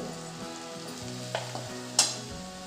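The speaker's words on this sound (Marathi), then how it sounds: "मिरची व कढीपत्ता तेला छान तळला गेले" Chilies and curry leaves frying in hot oil for chivda give a steady close sizzle, with a few sharper crackles and a brief utensil clink partway through; no one speaks.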